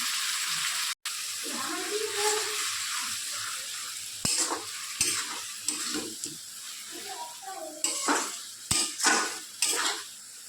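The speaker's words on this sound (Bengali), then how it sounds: "দিয়ে ভালো করে নাড়াচাড়া করে আঁচে ঢেকে দেবো।" Chicken curry being stirred in a pan with little oil, a soft sizzle under repeated scraping and clinking of a utensil against the pan, close, with a person talking intermittently.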